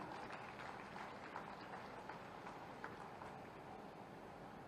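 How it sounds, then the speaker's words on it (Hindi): A crowd at a government award ceremony breaks into steady, dense clapping, heard from some distance as a continuous even roar without pauses. "एक बार जोरदार तालियां।"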